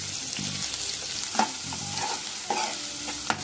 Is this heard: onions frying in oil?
yes